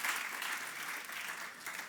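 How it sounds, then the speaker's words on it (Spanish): A church congregation claps for the Lord in a short burst of steady, moderately distant applause. "dale un aplauso al Señor"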